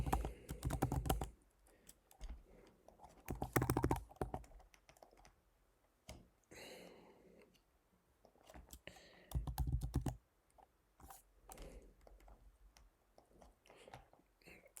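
Someone types an email address on a computer keyboard, soft, quiet clicking keystrokes in quick bursts separated by short pauses.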